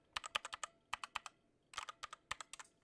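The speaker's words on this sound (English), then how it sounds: "I have this other keyboard." Keys clatter on a spare computer keyboard, kept as a secondary board beside a main mechanical one: two quick bursts of crisp, close keystrokes with a short pause between them, no voices.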